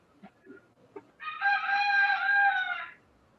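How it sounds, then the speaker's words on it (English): A rooster crows once at daybreak, a loud, clear drawn-out call lasting nearly two seconds after a few faint knocks and sounds. "I think the Roosters finally got it right now."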